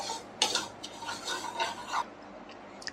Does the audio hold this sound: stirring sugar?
yes